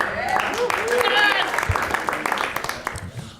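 Voices and laughter open a studio-audience moment. A burst of scattered hand clapping follows, crisp and fairly close, fading out toward the end.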